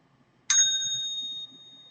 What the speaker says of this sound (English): You ding the bell.